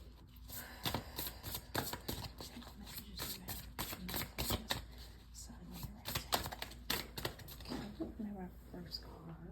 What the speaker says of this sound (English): So I want to shuffle the elemental empath cards for you.